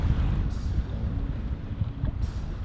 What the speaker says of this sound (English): there was enough wind to turn off the engine and start sailing